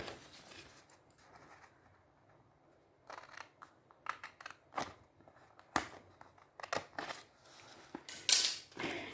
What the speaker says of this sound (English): we'll cut this mark, and like this we have to cut all the 4 marks